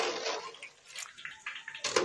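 Boiled danwake dumplings are dropped into fresh cold water, giving close, splashy sloshing and dripping sounds in uneven bursts, moderately loud with no talk.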